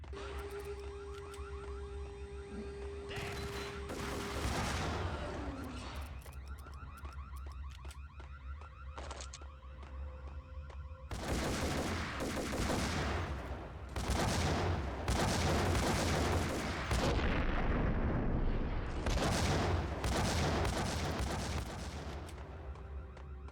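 Rapid bursts of gunfire in the Max Payne video game, dense and loud over a steady game backdrop, with volleys repeating through the second half alongside a shrill alarm-like tone.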